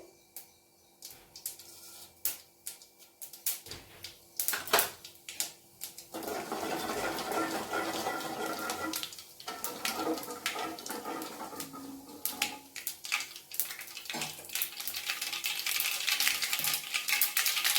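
Mustard seeds spluttering in hot oil in a pan, a rapid crackle of sharp pops that swells into a dense, continuous sputtering, close and moderately loud, no talk.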